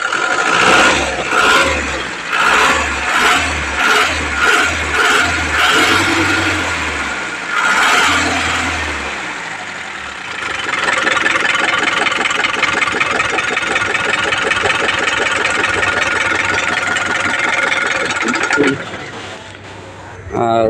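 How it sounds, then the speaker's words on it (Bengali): Engine of a used car for sale, first thumping in a steady rhythmic pulse, then settling into an even idle that runs on loud and close; someone talks over parts of it. "ইঞ্জিনের সাউন্ডটা দেখেন আপনারা।"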